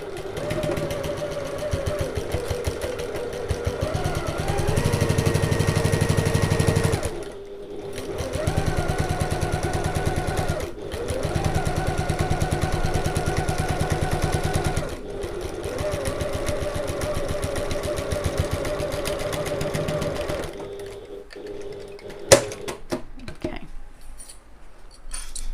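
Sewing machine stitching a bag seam with back stitches at the start and end, several bursts of fast mechanical whirring separated by short stops, close and fairly loud, ending in quieter handling sounds.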